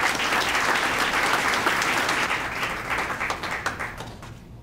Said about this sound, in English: let's give Jeff a round of applause.